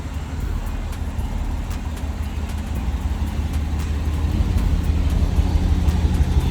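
An SRT Jeep's engine idles with its mufflers removed, a steady, loud low rumble that swells slightly toward the end, with no talk over it.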